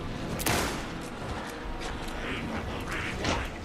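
Rapid gunfire in Alan Wake 2, bursts of sharp shots crackling over a dense, noisy combat background at moderate loudness.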